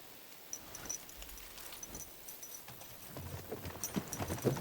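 Horse hooves clip-clop in Kingdom Come Deliverance II, a steady rhythm of moderately near hoofbeats that grows louder and busier toward the end, with no voices over it.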